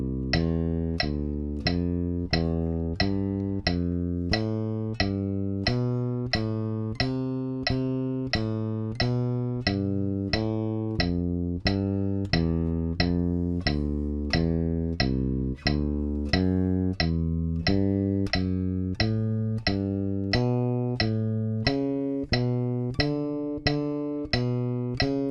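An electric bass plays a major scale in steady quarter notes, each plucked note clear and evenly spaced, heard alone for about two dozen notes.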